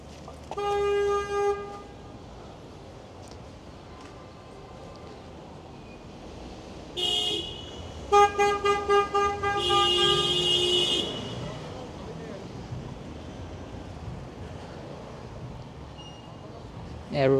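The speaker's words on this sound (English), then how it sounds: "Everyone is honking" Car horns honk along a street in Park Slope, Brooklyn, New York City: a long blast, then several short toots and a sustained honk, mid-distance over steady traffic rumble.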